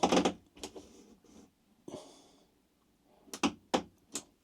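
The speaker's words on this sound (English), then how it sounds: "And here comes the toilet on demand." Motorized pull-out toilet in a 2017 Niesmann Bischoff S Move motorhome: a cabinet door clicks open, then short mechanical whirs, clunks and latch sounds in separate bursts, close and quiet, with no talking.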